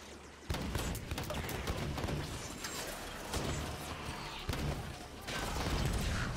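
In the Halo 5: Guardians campaign, a Hydra launcher fires a rapid flurry of shots with explosive cracks and mechanical clatter, loud and dense, amid ongoing battle noise.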